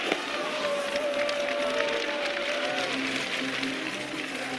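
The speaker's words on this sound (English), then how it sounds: "Crowd being pretty supportive, such as it is." Supportive crowd cheering at a ski jumping World Cup event in Kuopio, a steady, moderately loud wash of distant voices under a commentator's talk.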